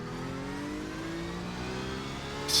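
Steady engine drone of a race car in the video game iRacing, with a faster-class car closing from behind, holding an even hum with a brief louder burst at the end.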